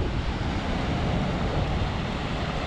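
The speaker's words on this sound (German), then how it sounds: "Die Wellen kommen rein." Incoming tide waves washing onto a sandy New Zealand beach, a steady, soft broadband surf rush with some wind, continuous and fairly distant, with no voices.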